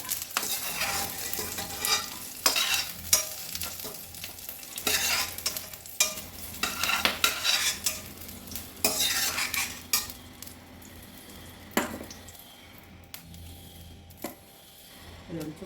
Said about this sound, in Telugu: ఈ పచ్చిమిర్చి ఇందులో వేస్తున్నా ఇదిగోండి వేగాయి